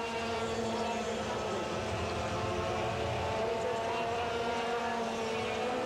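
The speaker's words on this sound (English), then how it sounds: "John Target, of course, running fourth there in kart number 14, sponsored by Tony Karts Australia." Racing karts buzz past steadily in an Australian street race meet, a continuous high-revving two-stroke drone that stays loud and even throughout without pauses.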